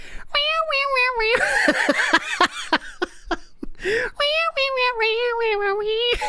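Cat meows used as a solo in a piece of music, a run of clear, pitched, sliding meow-like tones in quick succession, broken in the middle by sharp percussive hits before the meowing returns.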